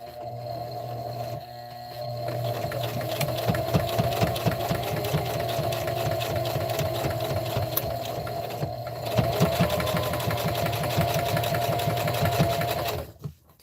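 A sewing machine stitching a pad made from a dish drying mat, a loud, rapid, steady mechanical chatter that runs for several seconds, with brief pauses near the start and end.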